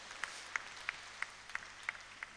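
A church congregation at an Anglican service claps in a quiet, sparse, evenly spaced rhythm of about eight soft claps, heard faintly at a distance with no talk over them.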